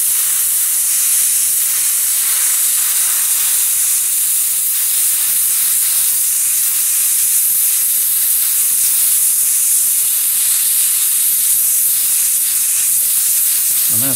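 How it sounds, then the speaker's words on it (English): An airbrush sprays paint onto a model Sturmgeschütz III Ausf B tank, a continuous, close, bright hiss held steadily for the whole stretch with no talking. "When I spray, I just hit the middle and just kind of work my way out."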